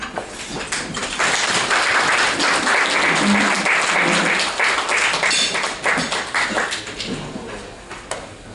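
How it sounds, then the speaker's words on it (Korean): Loud, sustained applause from a lecture audience welcoming a professor to the podium, steady broadband clapping throughout with a few sharper taps and no speech. "큰 박수로 맞아주십시오."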